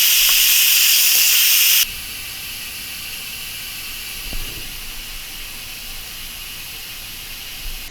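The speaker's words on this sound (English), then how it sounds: "I'm gonna quick release the rest of this pressure." An Instant Pot vents in a quick pressure release while sausage, kale and couscous soup cooks. A loud, bright steam hiss runs for about two seconds, then cuts off, leaving a quieter steady hiss with a faint clunk.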